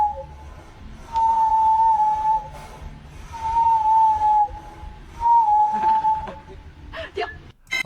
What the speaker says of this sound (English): apparently walruses can whistle